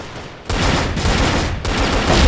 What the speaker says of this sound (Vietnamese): Để em nào bắn thử cái BMR đó coi